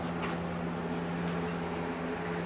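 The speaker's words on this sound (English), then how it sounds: "That noise you hear is our fume hood." A laboratory fume hood runs in a metal casting setup, giving a steady, fairly loud, broadband fan roar with a low hum that holds unchanged throughout.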